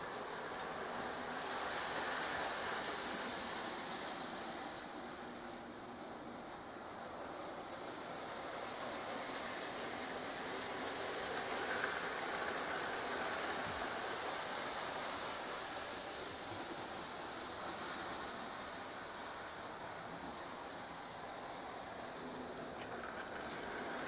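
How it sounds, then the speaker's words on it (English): Two reconditioned Lionel O gauge model trains run on a relay-controlled 5x8 layout, producing a faint, steady rolling whir that continues unbroken with no talking. "I got the trains to run the exact same speed so they time perfectly when they meet each other"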